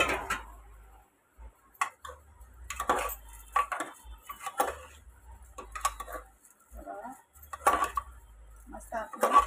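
A utensil scrapes and knocks against a pressure cooker while an onion, tomato and chili mixture is stirred, giving irregular clinks and taps with quiet gaps in between.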